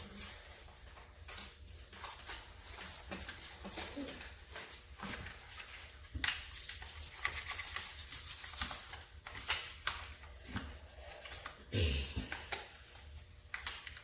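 A brush scrubs dirt off a 1/8-scale electric RC car in quick, repeated rough strokes with small knocks and pauses, close and moderately loud throughout.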